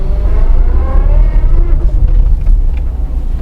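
A Tata Tiago hatchback on the road, heard from inside the car as a steady low engine and road rumble that holds throughout at a fairly loud level, with faint cabin noise above it and no talk.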